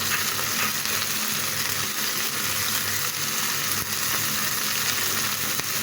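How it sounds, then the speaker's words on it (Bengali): Fish coated in a spice paste of Kashmiri chilli and tomato sauce fries in oil, giving a loud, continuous sizzle and spitting crackle, close and with no talking. "একটু একটু করে দিয়ে দিব আর এই পিট করে ভেজে নেব মাছটাকে"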